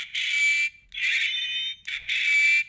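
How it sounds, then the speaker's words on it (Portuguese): Electronic sound effect from a Darth Vader toy keychain, a buzzy synthetic tone played in three sustained bursts with short gaps, fairly close and thin with no talk over it. "Esse é o barulho do Vader?"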